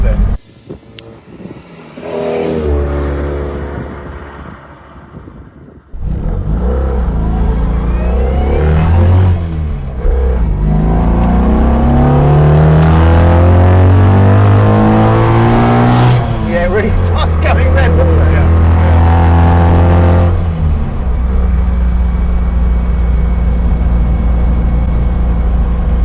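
A car engine revs hard and climbs in pitch as it accelerates, loud and close, with people talking over it.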